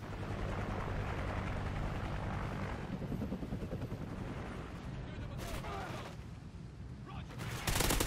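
A helicopter's rotor thrum drones steadily in a Call of Duty game, with bursts of gunfire and explosive crackle layered over it, loud and busy throughout.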